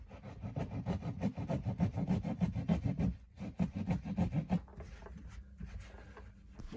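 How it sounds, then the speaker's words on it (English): A saw cuts through a Sonopan soundproofing sheet in quick, rhythmic rasping strokes for about three seconds, then slower strokes, before fading to quieter scraping, close and fairly faint. "I will just cut it right through to the end of the sheet"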